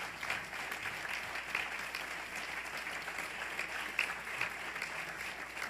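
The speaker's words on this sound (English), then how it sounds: "Let's give these brothers a round of applause." A crowd applauds steadily and loudly for several seconds, a dense, even wash of many hands clapping with no voices standing out, greeting a group of visiting students from Bard College.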